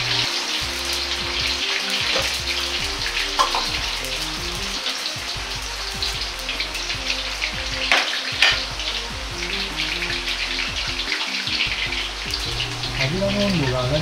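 Potatoes deep-frying in hot oil for Chinese-style German potatoes make a steady, crackling sizzle that continues without a break, close and even in level, with a few louder pops.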